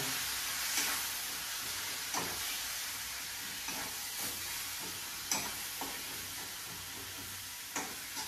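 Mutton fry masala with homemade spice mix and a splash of water sizzling in a pan, soft continuous hiss broken by periodic scraping stirs and taps of a spoon.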